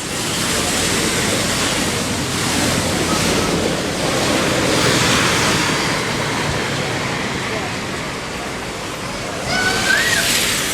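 Waves breaking along the busy seafront in Salou, Spain, a continuous broad wash of surf mixed with wind noise on the microphone, steady and fairly loud throughout.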